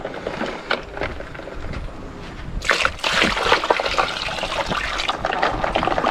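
Water poured into a bucket holding a freshly caught barramundi on an Australian fishing trip, a steady splashing, trickling pour that grows louder and fuller midway through, close by and heard on its own.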